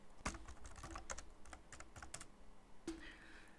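Fingers type a function on a computer keyboard, a close run of quick uneven clicks and key taps with short pauses and one sharper keystroke near the end, with no talking.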